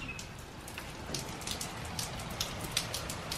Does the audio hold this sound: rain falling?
yes